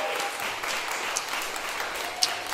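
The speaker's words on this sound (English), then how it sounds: "let's give a round of applause to our amazing guests, Alex, Christine, Dylan." Applause from the audience at a live podcast recording at a clothing-themed jamboree, thanking the guests with steady, moderately loud clapping from a smallish crowd, carrying a few faint voices and a couple of sharper individual claps.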